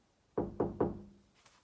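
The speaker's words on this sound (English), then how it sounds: "knocked on the door, politely." Three evenly spaced, polite knocks on a wooden door, close and clear in an otherwise quiet room.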